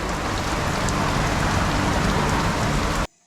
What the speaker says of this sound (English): big old rain shower